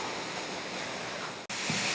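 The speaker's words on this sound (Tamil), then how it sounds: "இப்போ இதெல்லாம் நல்லா வதக்கி விட்டுறலாம். நல்லா எண்ணெய் பிரிஞ்சு வரணும்." Masala and tomato sautéing in hot oil in a pan, a steady close hiss of frying that fills the clip, with a brief near-silent break before the sizzle resumes.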